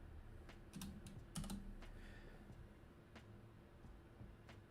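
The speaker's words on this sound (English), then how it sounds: "Sorry, almost done typing." Computer keyboard typing, quiet and close, with irregular bursts of key clicks and a few louder thumps, no talking.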